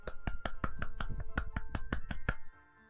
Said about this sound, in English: Wait, let me clap my hooves.